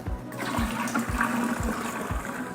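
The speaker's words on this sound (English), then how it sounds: "I'm going to start filling up my measuring cup." Alkaline water at pH 9.5 pours steadily from a measuring cup into a vase, a continuous close splashing trickle with a regular low rhythmic gurgle throughout.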